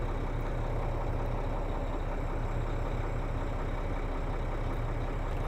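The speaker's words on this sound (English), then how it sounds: "everyone in my channel wants to hear the engine sounds" A truck engine runs steadily inside the cab during a ride, giving a constant low rumble and hum. The level stays even throughout the span, and no one speaks over it.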